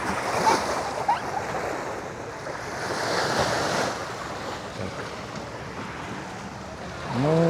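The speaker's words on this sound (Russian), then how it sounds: "Ну, это основной пляж." Waves wash onto the main beach of a Hurghada resort on the Red Sea coast, a soft continuous surf rolling in under gusty wind buffeting the microphone, with no talking.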